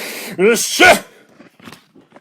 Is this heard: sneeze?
yes